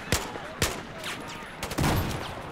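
Armor-piercing rounds fire in a Battlefield 4 gunfight, with two sharp shots early on, then a burst of several rapid cracks and a louder rattle near the end, heard close and loud.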